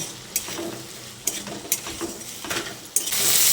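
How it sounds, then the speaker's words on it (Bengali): Potatoes with salt and turmeric frying in a pan, a continuous close sizzle punctuated by several sharp scrapes and knocks of a spatula stirring, with a louder burst of sizzling at the end. "নুন আর হলুদের গুঁড়োটা দিয়ে আলুটাকে একটু নেড়ে চেড়ে ভেজে নেব"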